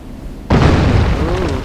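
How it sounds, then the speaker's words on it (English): After half a second of quiet, a sudden loud boom bursts out: an explosion inside a building in the video game Final Fantasy XIV, followed by a sustained rumbling blast, with a faint tone sounding over the tail. "I believe it was an explosion from somewhere within the building."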